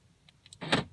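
Door locks on a Ford set to two-stage zone unlocking actuate in a short, sharp mechanical burst near the end, preceded by a couple of faint clicks, loud and close with no talking.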